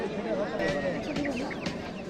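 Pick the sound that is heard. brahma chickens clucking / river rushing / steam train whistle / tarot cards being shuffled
brahma chickens clucking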